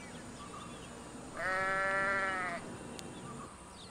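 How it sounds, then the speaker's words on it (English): A ram, a male sheep, gives a single sustained bleat of about a second, clear and harmonic, over a quiet steady background hiss. "What sound does a ram or a male sheep make?"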